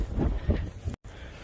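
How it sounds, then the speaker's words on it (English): Gusty wind buffets a microphone outdoors on a farm, a steady low roaring rumble with swelling gusts, cut by a brief dropout near the end. "it's windy out here"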